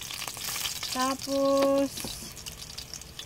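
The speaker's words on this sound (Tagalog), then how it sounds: "Igigisa lang natin siya." Food sautéing in a frying pan gives a steady broadband sizzle throughout, and a voice speaks briefly over it partway through.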